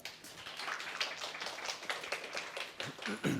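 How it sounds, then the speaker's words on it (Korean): A small audience at a Korean expectant mothers' class claps to welcome a tenor. The applause is moderate and fairly close, with distinct individual claps in an uneven rhythm. "박수 한번 부탁드립니다."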